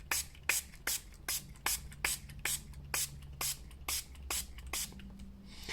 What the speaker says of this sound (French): Je remets un coup de spray fixateur